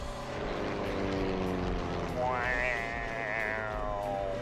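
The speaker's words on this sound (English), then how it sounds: "first pylon racing with multiple airplanes ever done" Propeller racing airplanes in a multi-plane pylon air race drone past, with a rising, wavering engine pitch that swells in the second half, under a voice talking throughout.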